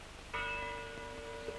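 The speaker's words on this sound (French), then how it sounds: "Écoutez. Oh, les cloches." Church bells ring out at night, a single clear strike followed by a long sustained hum, distant and faint.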